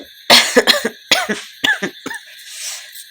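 A sick woman with a fever coughs several times in quick, harsh bursts, close and fairly loud, with short pauses and a trailing breathy sound at the end.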